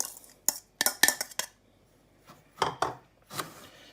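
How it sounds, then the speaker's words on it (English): Dry bath truffle ingredients stirred together in a bowl, giving a string of short, close scraping clicks and clinks of a utensil against the bowl, in bursts separated by brief pauses. "we will mix the dry ingredients together first"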